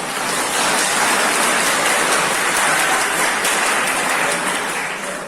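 A seminar hall audience claps together in a dense, even burst of applause that fills the room for several seconds at full volume, then tapers slightly at the end.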